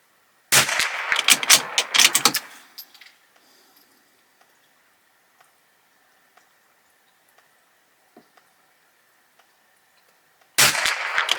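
Rimfire rifle shots from a Bergara B14R firing Eley Standard .22 ammunition, a quick cluster of sharp cracks, then near silence with faint ticks before another burst at the end.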